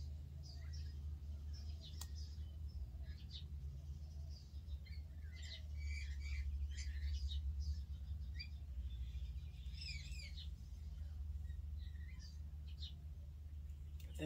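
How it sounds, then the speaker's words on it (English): Distant parrots squawk in scattered bursts over a steady low hum, faint and intermittent. "if you listen careful, you can hear the parrots out the front."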